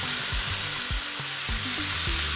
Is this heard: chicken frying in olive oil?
yes